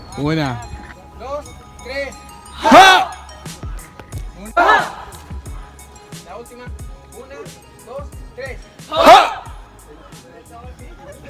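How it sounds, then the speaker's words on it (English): Voices shouting a count and sharp claps ring out in the stone Mayan ball court at Chichen Itza, with three loud bursts each trailing into a fluttering echo, mixed with talk and crowd murmur. "you can hear the echo in the background"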